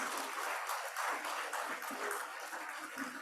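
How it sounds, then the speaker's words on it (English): A conference audience at an agribusiness and food security event gives a governor another round of applause: steady, dense clapping at moderate distance that continues for the whole stretch. "I think my governor deserves another round of applause."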